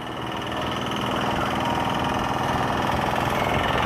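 Riding a Vida VX2 Plus electric scooter in eco mode, a steady broadband rush of wind and road noise with a faint motor hum, constant and fairly loud throughout, no talking.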